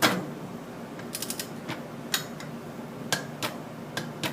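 A torque wrench tightens a fastener to 15 pounds on a Can-Am Maverick. Close, sharp metallic ratchet clicks come in small irregular groups over faint background hiss, with no talking.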